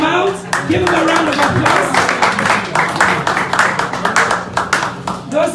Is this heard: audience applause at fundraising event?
yes